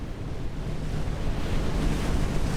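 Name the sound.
ocean waves in NAUTIS Home Ship Simulator video game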